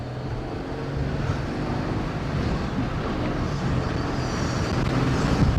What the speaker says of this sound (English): Oh, that turbo sounds hungry.